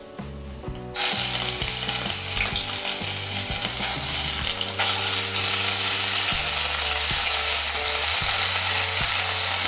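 Ginger paste dropped into hot oil with whole-spice tempering for a curd-based paneer dish, a sudden loud sizzle that stays intense and steady, with a low hum running underneath throughout.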